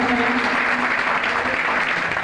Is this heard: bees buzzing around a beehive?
no